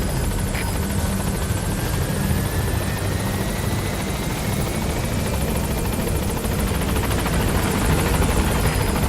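A helicopter in Metal Gear Solid V arrives at a landing zone, its steady rotor thrum and engine whine droning loudly and continuously throughout.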